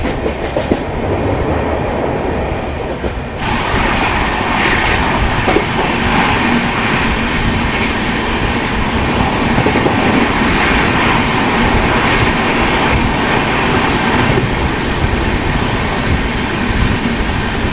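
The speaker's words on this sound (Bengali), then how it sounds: "ট্রেন তো আমাদের একদম নির্দিষ্ট সময় ছেড়ে দিল 6:45 হাওড়া থেকে দীঘার উদ্দেশ্যে তাম্রলিপ্ত এক্সপ্রেস" The Tamralipta Express runs from Howrah toward Digha with a loud, constant rumble and rattle of wheels and carriages heard from on board, the roar jumping up sharply a few seconds in and holding steady after that.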